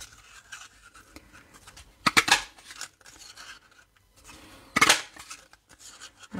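Scissors cutting paper for a children's Mother's Day card, two distinct crisp snipping bursts a few seconds apart over quiet background rustling.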